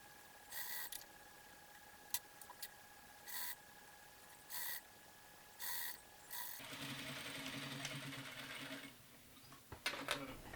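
A sewing machine edge-stitches the hem of a hood for a medieval monk costume, running in several short, even bursts with pauses between, then a longer faint mechanical whir and a few clicks.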